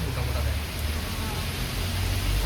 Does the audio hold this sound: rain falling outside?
yes